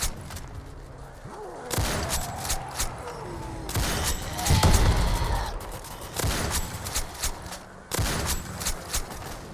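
Sniper rifle fire in the Roblox game Zombie Uprising, heard as a few sharp, loud shot bursts spaced across the stretch, with game noise and muffled sound between them.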